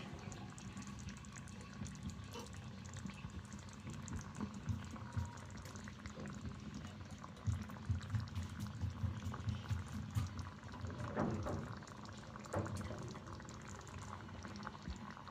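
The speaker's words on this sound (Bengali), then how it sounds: "আমার মশলাটা বলক এসে গেছে এখন আমি এক এক করে মাছগুলো ছেড়ে দিচ্ছি" Mustard masala for hilsa fish bubbles at a steady rolling boil in a pan, a continuous close simmering hiss with faint splashes as pieces of fish go in, no voices.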